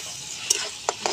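Onion and garlic paste stirred in a frying pan over a steady sizzle, with two or three short scraping clicks of the spatula, no talk.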